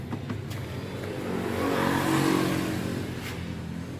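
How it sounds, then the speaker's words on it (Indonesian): Yamaha Mio GT scooter-style motorcycle engine started back up after an electrical check, revving in a rising, swelling burst that peaks mid-clip and then settles, close and fairly loud with no talk. "kita akan nyalakan kembali motor"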